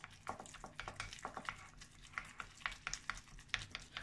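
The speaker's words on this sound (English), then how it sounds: "keep stirring." A spoon stirring finely chopped ginger in a pan for wonton soup, with repeated scraping strokes and faint frying underneath, close and quiet with no voice.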